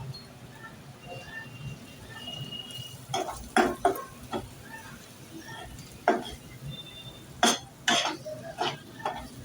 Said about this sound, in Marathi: आता हे सगळं मिक्स करून घेऊया